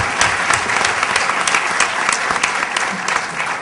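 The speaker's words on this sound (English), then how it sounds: "You got to give him another round of applause so that he'll come back to be with us." Sustained applause from a conference audience honoring a spoken word performer, dense steady clapping throughout at close range.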